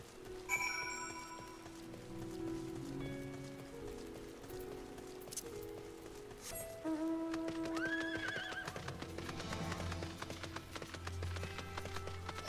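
Horse in the online game Final Fantasy XIV whinnies and neighs over clip-clopping hooves, with tonal game sound effects and music layered on top.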